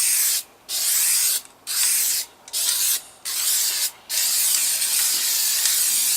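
Lacquer clear coat sprays onto cedar in five bursts of broad hiss separated by short pauses, ending in a longer continuous spray, loud and close.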